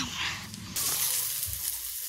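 Food sizzles steadily in a frying pan close by, a constant bright hiss that swells louder partway through, with no talking.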